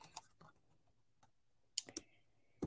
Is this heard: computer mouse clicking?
yes